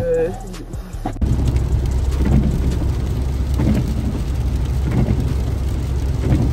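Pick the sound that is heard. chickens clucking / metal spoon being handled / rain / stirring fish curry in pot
rain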